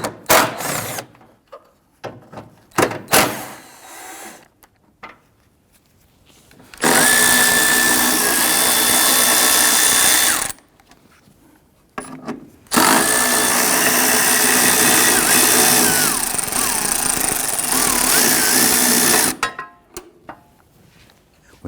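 A power tool loosens and removes the four 14mm battery bracket bolts on a 2007-2014 Cadillac Escalade 6.2L V8. It runs loud and close in two sustained bursts, the second longer, with quieter clicks and handling noises between them.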